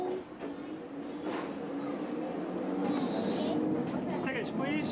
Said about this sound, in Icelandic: Og þá fer lestin af stað.